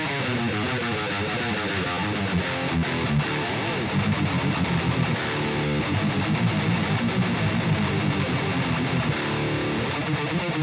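A metal electric guitar plays through an amp simulator with a drive pedal pushing the gain, giving a thick, heavily distorted, continuous riffing tone at a steady, full level with no talking.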